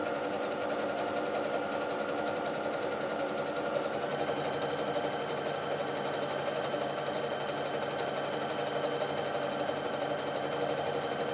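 A sewing machine stitching the edge of an overlapped dish towel, running at a steady, loud, continuous hum and whir for the whole stretch, with no talking.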